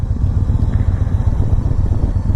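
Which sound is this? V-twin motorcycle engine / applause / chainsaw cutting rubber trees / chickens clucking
V-twin motorcycle engine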